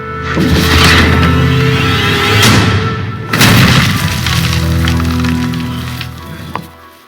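Trebuchet shots strike castle walls in the Age of Empires IV video game, with heavy booming impacts and crumbling rumble over a loud, continuous battle soundscape and two distinct crashing hits.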